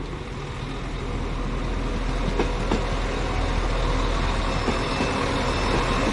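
A two-car diesel train in from Blackburn, Hebden Bridge, Todmorden, Halifax, Leeds and York rumbles through Preston station. A constant low engine drone builds slightly, and faint rail clicks are heard.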